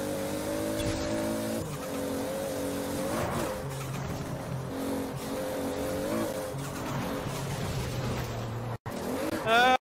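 A car at full throttle in Forza Horizon 4's Eliminator mode gives a steady, loud engine drone that rises and falls slightly, with tire squeal, ending in a louder burst.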